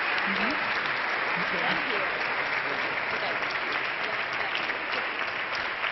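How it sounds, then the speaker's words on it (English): Applause from the audience at the UNCTAD World Business Awards ceremony, a dense and steady wash of many hands clapping that fills the whole stretch at an even level. "applause for her."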